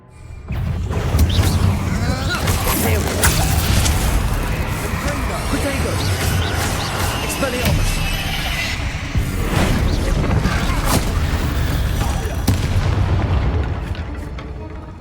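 Confringo blasting spell in the game Hogwarts Legacy: loud continuous booming blasts and crashing impacts, with dense rumbling combat noise throughout and a voice shouting over it.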